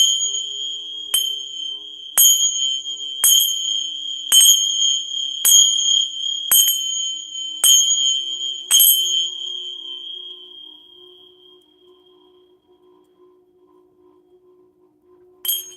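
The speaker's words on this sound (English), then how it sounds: "I'm going to go ahead and use my chimes to clear the energy to open this reading." Chimes struck about eight times at a steady pace, each bright ring overlapping the last, then a long fading decay into near silence before a final soft strike at the end.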